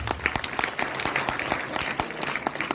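Applause from an audience in honor of a team leader at a DXN business gathering, steady moderate clapping heard from a little distance, with no voices over it.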